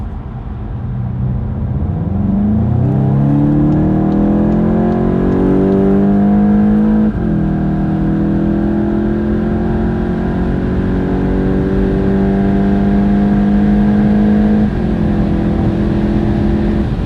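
A VW Golf 8 GTI accelerates hard on the Autobahn. The engine drone rises steadily through the gears, with two brief dips at the shifts. It sounds close and loud throughout, with no talking.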